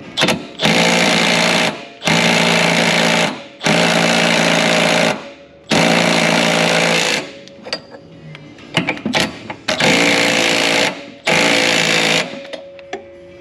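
A hydraulic press tool on an Infiniti G37 rear differential pulls a frozen bushing through, grinding and tearing it in loud, sustained bursts of about a second and a half, broken by short pauses and scattered clanks.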